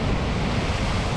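Steady roar of heavy North Sea surf pounding a Scottish shoreline at close range, loud and continuous, with gusting wind rumbling across the microphone.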